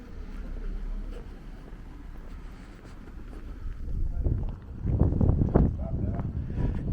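Wind gusts buffet the microphone on a small street in Tivoli, Italy, a low blustery rumble that swells louder toward the end, with footsteps and indistinct voices mixed in.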